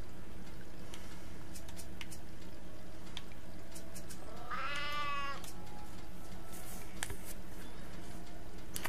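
A cat in the survival game Sheltered gives a single clear, rising meow at mid-range, set against a steady background hum with scattered soft ticks and clicks.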